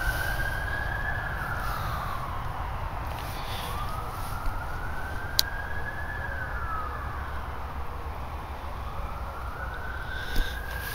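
An emergency siren near Jarrow Cemetery in the evening rises and falls in slow, sweeping wails, fairly loud and steady, with a couple of faint clicks and no talking.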